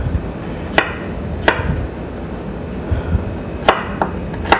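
A knife chops garlic on a cutting board in sharp, irregular taps, some spaced apart and a few in quick pairs, close and clear over a quiet kitchen background.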